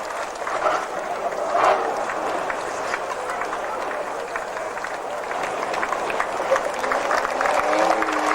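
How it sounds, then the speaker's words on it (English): Crowd at a Warton banger racing meeting applauds the Super Banger final winner. Broad, steady clapping mixes with a general crowd roar and holds evenly throughout. "your applause for Steve Hardy"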